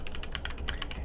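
Typing on a HyperX Alloy Origins Core keyboard with tactile Cherry MX Brown switches: a quick, close run of soft, evenly spaced keystrokes heard alone.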